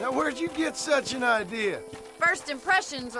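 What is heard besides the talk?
No everyday noises stand out.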